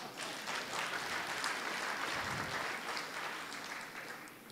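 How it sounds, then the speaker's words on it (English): A conference hall audience at the South Africa Investment Conference claps together in a soft, distant, continuous patter that holds evenly throughout. "I think that deserves an applause."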